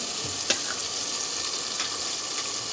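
Masala of tomato, yogurt, turmeric, coriander powder and salt frying in a pan for dhaba-style masala bhindi, a steady bright sizzle with a few soft stirring scrapes, close and even throughout.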